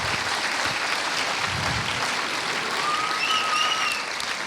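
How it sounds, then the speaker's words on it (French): Steady applause from a crowd at a film premiere screening, dense clapping that holds evenly throughout, with a faint whistle rising over it near the end. "je pense qu'il faut applaudir l'équipe de Box Production"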